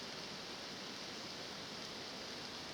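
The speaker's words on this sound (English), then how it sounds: "I can hear, pretty sure, water dropping on the leaves above me." Soft, even hiss of rain pattering on forest leaves overhead, constant and fairly faint, with no voices.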